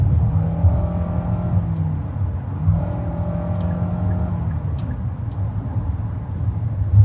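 A 2021 Nissan Rogue speeds up in sport mode, its engine droning and rising in pitch twice inside the cabin under steady road hum, with no one talking.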